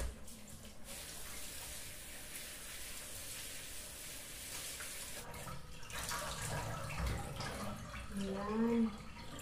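Tap water runs steadily over leaves from Thailand as they are rinsed for suman malagkit, a continuous splashing hiss in a kitchen sink, with someone speaking briefly near the end.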